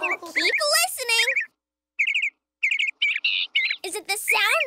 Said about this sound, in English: Is it the sound of a car honking or a bird chirping? A bird chirping.